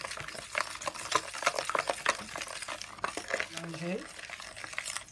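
Batter for beignets being stirred in a bowl, soft irregular wet scraping and sloshing strokes, close and quiet, with a voice talking over it.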